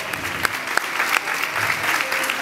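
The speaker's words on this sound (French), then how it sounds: "On l'applaudit bien fort." An audience at a Miss Ronde Pays de la Loire pageant applauds warmly, with dense, steady clapping and a few sharper claps over a lively crowd.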